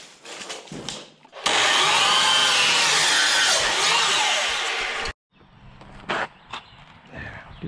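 A power saw cuts barn boards to length: a single loud, close, continuous cut of about four seconds, framed by lighter knocks and handling noises of wood before and after.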